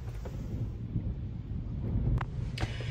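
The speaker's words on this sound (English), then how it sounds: "It's rain, rain, rain, and now the wind has picked up." Wind gusts rumble and buffet the microphone in a low, continuous roar, with a couple of brief sharper noises near the end.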